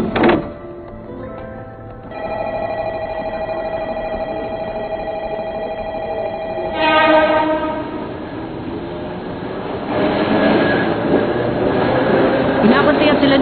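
A train in a Tagalog-dubbed Hunter x Hunter anime episode rumbles steadily along with a long sustained horn-like tone early on, then a louder, rougher rush of rolling noise toward the end.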